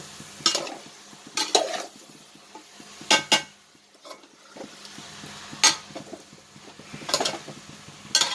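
Dried cod fish curry with brinjal and drumstick sautéing in a pan, a spoon scraping and clanking against the metal in irregular strokes over a faint sizzle, close and moderately loud.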